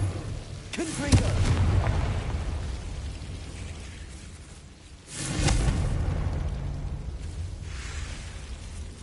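A Confringo fire spell bursts in Hogwarts Legacy, two heavy booming blasts a few seconds apart with rumbling tails, over ongoing game noise.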